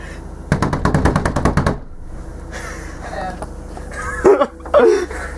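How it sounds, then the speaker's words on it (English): Rapid loud pounding on a bathroom door in a house as a prank on someone showering, about a dozen fast bangs in a burst, followed by voices and laughter. "the bang door prank that I just pulled on my brother"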